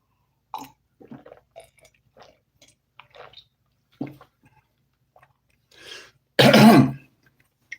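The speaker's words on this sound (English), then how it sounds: "Yes, to clear my throat." After scattered small mouth clicks and slurps, someone clears their throat once, loud and close, with a brief rough rasp.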